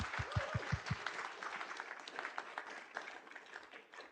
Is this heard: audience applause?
yes